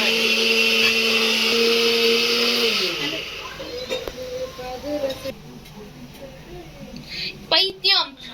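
Bread crumbs are ground in a mixer grinder, a loud steady whine for about three seconds that slows and winds down, followed by clicks, handling noises and voices talking nearby.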